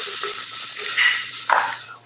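Chopped onion sizzling in a little oil in a pan while cooking chicken at home, a steady close hiss with soft stirring clatter and a brief louder spatter near the end.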